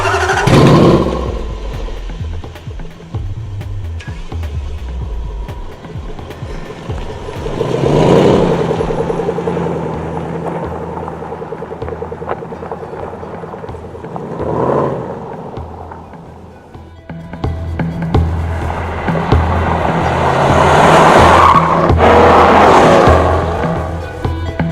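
A Range Rover Sport with a 5-litre supercharged V8 petrol engine driving on tarmac, loud engine roar rising and falling through repeated acceleration surges over steady road and wind noise, no speech.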